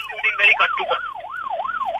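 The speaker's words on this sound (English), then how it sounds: "there's an ambulance behind me, man" An ambulance siren on the road close behind a moving car, wailing up and down in a smooth, even, repeating sweep, loud and near, with a brief voice at the start.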